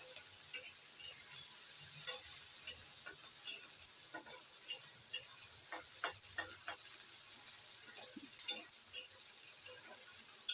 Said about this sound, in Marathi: बटाटा त्यामध्ये छान असा परतून घ्यायचा